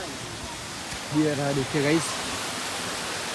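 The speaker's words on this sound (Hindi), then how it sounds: "और पानी की आवाज़ आपको आ रही होगी" Satkunda Waterfall in a jungle setting pours with a steady, broad rushing hiss that continues unbroken, while someone speaks briefly over it.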